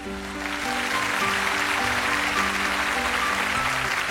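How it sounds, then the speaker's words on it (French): A studio audience at the French children's television show L'École des Fans applauds the young performers, a steady, dense wash of clapping that swells in within the first half second and holds, with sustained musical tones underneath. "on peut les applaudir tout de suite"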